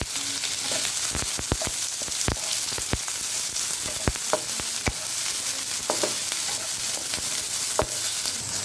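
Finely chopped onions sautéing in a pan for paneer Manchurian, a steady close sizzle with scattered sharp clicks and scrapes of stirring throughout.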